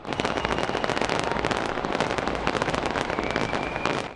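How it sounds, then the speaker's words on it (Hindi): New Year fireworks launched from Auckland's Sky Tower, a dense continuous barrage of crackling bursts and pops, loud and unbroken throughout with no voices. "ऑकलैंड शहर में स्काई टावर से आतिशबाजी का"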